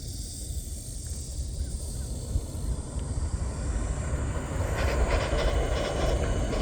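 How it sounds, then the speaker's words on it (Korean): A Mugunghwa passenger train rumbles past at a distance near the lower Miryang River, a broad steady roar that swells gradually toward the end, with no voices. "서울에서 내려온 무궁화, 무궁화호 열차가 이제 지금 내려가는"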